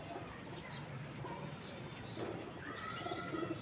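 Pigeons coo softly amid steady outdoor background noise at a rooftop loft where birds are being readied for a pigeon-flying contest, with faint scattered calls and no close voices.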